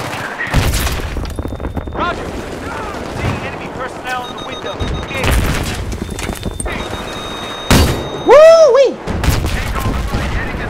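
Explosions and gunfire from a tank being destroyed in the video game Battlefield 3, with bursts of shots, a few booms and a rising whine, mixed under excited talk from a player.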